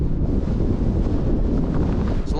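Strong wind buffets the microphone outdoors on a cold morning, a steady, loud rumbling roar that holds for the whole stretch with no voices.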